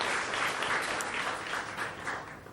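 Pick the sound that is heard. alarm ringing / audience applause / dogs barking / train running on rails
audience applause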